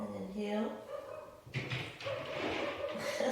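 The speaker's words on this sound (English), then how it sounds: "That's my dog." A household dog barks at the postman from elsewhere in the house, a few faint yelps and barks under a woman's calm spoken instructions.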